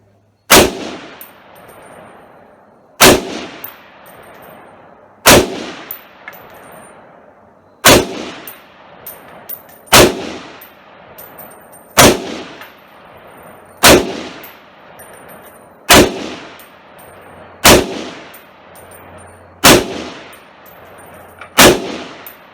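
A Palmetto State Armory PSA-10 (PA-10) rifle fired slowly outdoors, ten loud sharp shots evenly spaced about two to three seconds apart, each with a ringing decay, and no talking between them.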